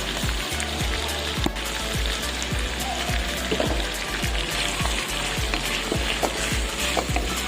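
Potatoes sizzle in a hot pan for a corned beef dish, a loud continuous fry with regular low knocks of a utensil scraping and stirring through the pieces, close and without talk.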